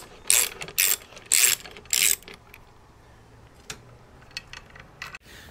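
A ratcheting wrench turns a nut on the swingarm of a Harley-Davidson Softail during swingarm bearing replacement, giving four loud close bursts of rapid clicking followed by fainter scattered ticks and clinks.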